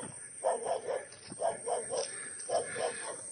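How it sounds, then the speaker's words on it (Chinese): A single dog barks in repeated short bursts from a remote mountain homestead near a cornfield, moderately distant, in groups of about three barks with quiet gaps between. "听到一个狗叫，不会有很多吧。"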